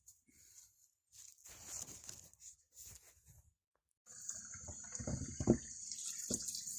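Harvested Japanese knotweed stalks are rinsed in water, heard as faint, intermittent splashing and running-water bursts with short quiet gaps, then a longer spell of sloshing. No speech.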